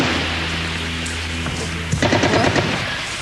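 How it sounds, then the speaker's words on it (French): Gunfire at Netzarim, an Israeli enclave, comes as a loud rattle of rapid shots over a low rumbling drone, with a dense burst in the last second. "des tirs."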